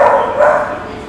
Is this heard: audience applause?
no